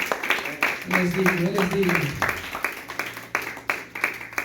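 Church congregation clapping in rhythm during a Spanish-language service, rapid regular claps running through the whole stretch while a preacher speaks over them.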